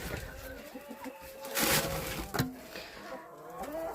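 Vietnamese pot-bellied pigs grunt faintly, a few low snorting calls and a brief squeal against quiet farmyard background noise.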